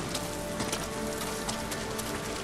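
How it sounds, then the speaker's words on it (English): Rain falls in a feudal Japan setting in the game Ghost of Tsushima, a dense, continuous hiss of drops striking the ground, with faint hoof-like clopping from a horse underneath. "So it's raining"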